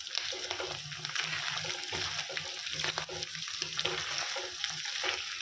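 A pan of duck varuval with chillies sizzles steadily on the stove, and a spoon stirs the frying curry through a continuous close hiss with soft scraping strokes and no talk.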